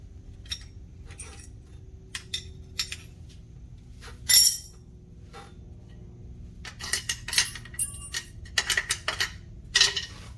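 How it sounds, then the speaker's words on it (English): Metal brake pads being pulled from the caliper of a Can-Am Gen 2 off-road vehicle, with sharp clinks and metallic rattles scattered over a quiet workshop background, close and intermittent. "what we're gonna do is remove the brake pads"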